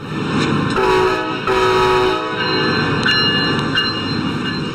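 Train horn blasts twice, loud and close, each a sustained chord of several notes, over the steady rumble and clatter of a passing train; no talking.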